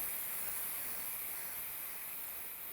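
A steady aerosol hiss of spray adhesive basting quilt batting to fabric sprays continuously for a few seconds, broad and airy with no pauses, fairly close.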